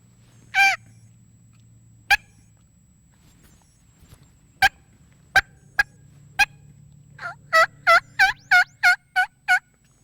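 A hand-operated turkey call imitates hen clucks and yelps. A single early yelp is followed by scattered sharp, isolated clucks, then a quick rhythmic run of about eight bright notes near the end, close and clear over a low background hum.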